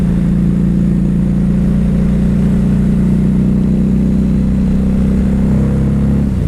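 A Harley-Davidson Night Rod Special (V-Rod) cruiser engine runs while the bike is ridden. It gives a loud, continuous, deep drone with a strong, even hum that holds steady the whole time, and no voices are heard.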